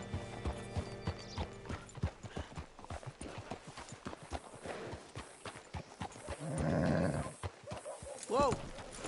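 Steady hoof clip-clops from a horse walking in a video game, mixed with a game music score and background voices, ending with a short whinny.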